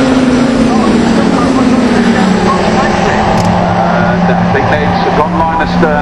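Caterham Seven 310R race cars at Castle Combe circuit roar continuously as they power out of the S's, a loud sustained engine drone with a rising then falling pitch, close and dominant throughout.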